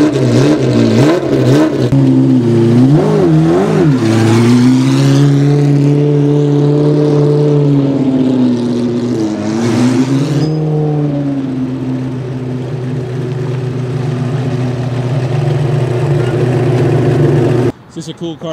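Early-1990s Ferrari race car engine revving up and down repeatedly in a loud, close burst of wavering pitch. It then settles into a steady idle that cuts off at the end, with brief talk heard over it.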